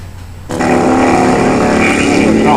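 A racing lawn mower engine at a Greenfield mower race bursts in at half a second into a loud, steady, buzzing drone that holds close and strong to the end, with no talk.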